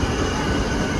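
A passenger train at Vijayawada junction, a continuous loud rumbling roar of the carriages rolling along the rails, close and steady with no talk.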